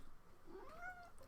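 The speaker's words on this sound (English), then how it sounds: "Sorry, the cat has arrived." A house cat lets out a single short, rising meow, faint and a little distant, over quiet room noise.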